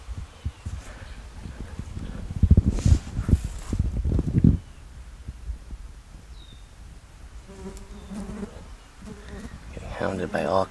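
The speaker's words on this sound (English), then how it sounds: "Hounded by all kinds of insects" Insects buzzing around an outhouse at an old rural cemetery, close and intermittent over outdoor ambience, with rustling footsteps and brief movement noises.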